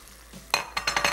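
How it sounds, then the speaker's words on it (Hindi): Chicken and garlic fry in a pan, with a bright hiss and crackle starting abruptly and pulsing as the pieces are stirred, mixed with light clinks of utensils against the pan. "यहाँ पे लहसुन के साथ ही हमने चिकन इसमें शामिल कर दी और ज़रा सा इसको फ्राई करेंगे।"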